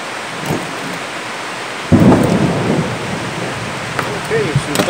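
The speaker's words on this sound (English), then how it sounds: "okay, some thunder going." Thunder rumbling through a storm with rain, a sudden loud roll breaking in about halfway and sustaining as a broad, heavy rumble over steady rainfall.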